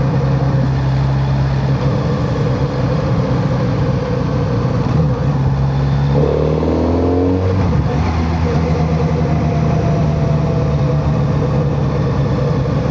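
A 2026 Kawasaki Z900RS motorcycle accelerates in the lower gears, its exhaust a loud continuous drone that climbs in pitch and briefly dips at a shift midway, with strong wind rush throughout.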